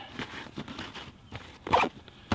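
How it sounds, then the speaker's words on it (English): A zipper on a side pouch of a Vanquest Trident 31 backpack being pulled in short, rasping strokes, close up, with a louder, quicker zip near the end. "the pouch on the side actually unzips to fit in various tripods"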